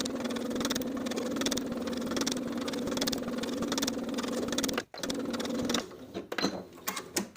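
A sewing machine runs steadily while stitching 1/4 inch seams joining pocket pieces to side insets on athletic shorts, a continuous close mechanical hum that stops briefly, then resumes in shorter stop-start bursts.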